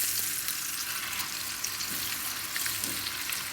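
French fries sizzling as they go into a hot pan, a moderate steady hiss of oil with a soft bubbling texture and a couple of faint low knocks.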